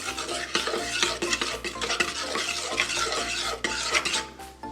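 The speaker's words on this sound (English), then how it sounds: "And just stir it up." A spoon stirs beignet batter in a bowl, making repeated rhythmic scraping and clinking strokes, close and fairly loud, with no talking.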